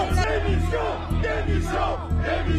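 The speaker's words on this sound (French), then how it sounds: "chahutée par les manifestants qui scandaient « Démission »" A crowd of protesters at a farmers' demonstration outside the Palais Bourbon in Paris chants in loud, rhythmic bursts, the massed voices rising and falling in repeated phrases close by.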